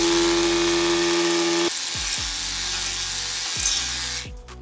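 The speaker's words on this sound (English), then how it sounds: "Okay, so let's drill our hole." A power drill boring a hole in concrete for a handrail's mechanical anchor, a loud steady whine that cuts off, then several short trigger bursts up close, no one talking.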